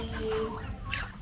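Chickens cluck and chatter in a short burst outdoors at a camping site in Naic, Cavite, with a brief higher squawk amid steady background noise.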